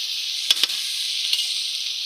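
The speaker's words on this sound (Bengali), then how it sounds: "ফার্মের মুরগি ব্রয়লার মুরগি তার জন্য মাংসটাকে একেবারে ভাজা ভাজা করে নিচ্ছি" Broiler chicken pieces fry in a pan with a steady, bright sizzle and a couple of brief stirring clatters near the start, close and even throughout.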